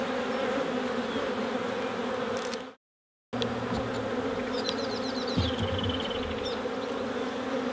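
Honeybees buzz continuously in an open beehive during an inspection, a dense steady hum with a brief cut to silence partway through and faint handling clicks.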